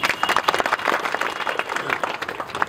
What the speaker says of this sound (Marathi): तर सर्वांसाठी मनापासून अंतःकरणापासून एकदा टाळ्या होत्या.